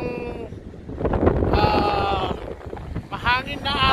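Gusty wind at the edge of a rough sea in Llandudno buffets the microphone in low rumbling bursts while a person talks over it.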